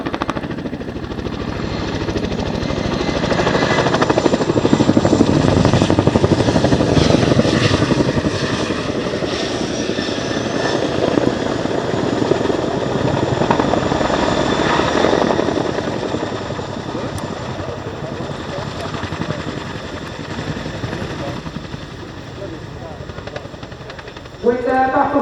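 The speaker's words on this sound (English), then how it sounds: "Mal and Bob will lower the ramp and clear the troops back onto the aircraft with a brand new addition to the Chinook Roll Demo this year" Boeing Chinook HC.6 twin-rotor helicopter flying a Royal Air Force role demo at an airshow, a loud continuous rotor thrum and turbine roar that swells and fades as it passes, with an announcer talking over it.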